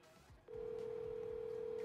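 After a half-second of quiet room noise, a steady telephone tone sounds as a call is placed and holds evenly at moderate loudness for over a second.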